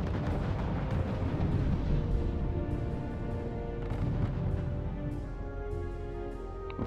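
Heavy artillery and gunfire rumble in the World War II strategy game R.U.S.E., with repeated distant booms layered over a dense, continuous battlefield roar that stays at a moderate level throughout.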